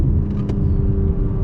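BMW M4 driving on winding roads, its engine a loud, steady low rumble heard from inside the car, with a brief faint rattle partway through.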